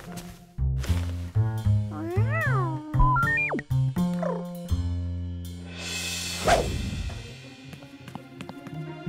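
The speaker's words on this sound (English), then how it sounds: "You're a cat." A cartoon cat meows in a run of rising and falling calls, some short and some drawn out, with light taps and thumps around them, then a breathy hiss at the end.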